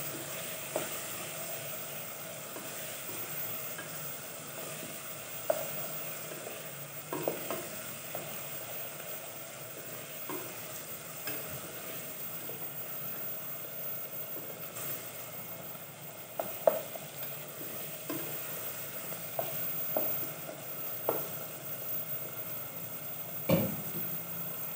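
Potatoes, peas and fenugreek greens frying in a pan, a soft steady sizzle with occasional clinks and scrapes of stirring, fairly quiet throughout.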